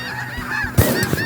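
A spring flock of snow geese honking loud and close, several overlapping calls that rise into a sudden burst near the end.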